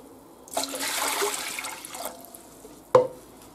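Water pours into a saucepan in one rushing, splashing stream of about one and a half seconds, then trickles off, followed by a sharp knock of the pan.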